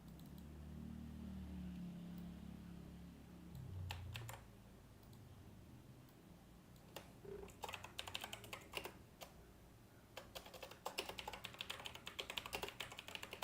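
Keystrokes clatter on a computer keyboard in bursts of rapid typing, close and distinct, after a low rumbling stretch at the start.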